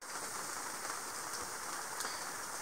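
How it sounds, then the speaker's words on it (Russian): Steady rain falling, a dense even hiss of drops on surfaces with no other sounds, constant in level throughout. "Все еще дождик идет."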